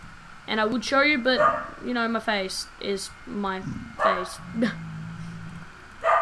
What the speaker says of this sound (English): You may be able to hear my dogs barking